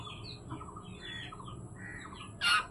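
A hungry baby bird fallen from its nest gives repeated short squawking calls, with a louder, harsher burst near the end over steady background noise.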